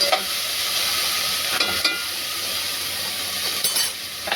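Ginger garlic paste frying with onions in a pan for chicken biryani, a steady loud close sizzle with occasional stirring scrapes and utensil knocks.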